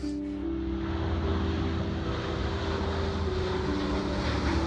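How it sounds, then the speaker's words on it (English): An airplane flies overhead in Iraqi Kurdistan, a steady, loud engine roar that holds through the whole stretch with a constant low drone. "When we hear the airplane from the sky"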